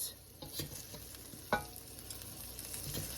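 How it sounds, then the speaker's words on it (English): Beef stir-frying in a pan, with soft sizzling and scattered scraping and stirring knocks, one sharper clatter near the middle, fairly quiet and steady throughout. "Let's get this nice and stir fried"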